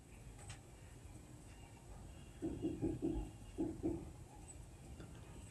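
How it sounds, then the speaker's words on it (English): A woodpecker drumming in short bursts of rapid taps, two quick rolls close together, faint and somewhat distant over quiet outdoor background. "that woodpecker's going crazy"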